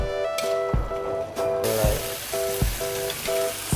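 Galangal, lemongrass and bay leaves are stirred as they fry in a pan, giving a steady, close sizzle and hiss under a looping music track.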